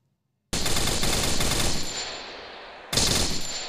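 Loud rapid-fire gunshots from the video game Free Fire burst in after a moment of silence, stream for over a second, taper off, then a second short burst follows.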